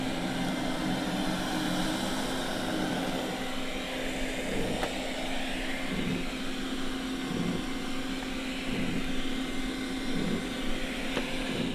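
A Roborock S6 robot vacuum running on medium pile carpet in a basement, giving off a steady whirring motor drone with a constant hum, even and unbroken throughout at moderate volume.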